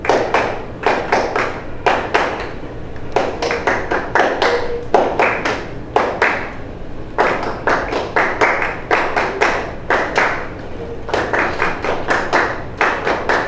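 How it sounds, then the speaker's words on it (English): An eighth-grade school band's percussion section claps a sight-reading part in unison, sharp rhythmic claps in repeated groups over a steady pulse, fairly loud and close in a rehearsal room. "And percussion, you can just clap the part."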